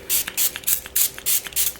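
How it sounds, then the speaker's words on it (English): Close-up hissing spritzes from a spray bottle, about seven short bursts in a steady rhythm, each a sharp airy puff separated by brief pauses. "We're gonna spray them."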